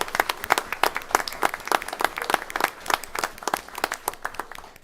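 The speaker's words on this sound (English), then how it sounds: "If you can give them one round of applause." Audience applause at a school board meeting, steady hand clapping from a modest crowd of people throughout, fairly close and moderately loud, with no talk over it.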